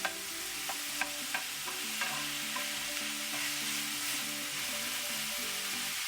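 Ground beef frying in a pan for red chile enchiladas, a continuous bright sizzle with occasional stirring taps, heard over steady tonal background music.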